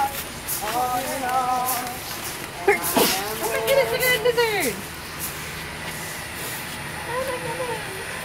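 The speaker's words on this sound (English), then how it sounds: "you just sneezed on that lizard" A man sneezes outdoors on a beach walk, one sharp hissing burst close to the microphone, with people talking before and after it.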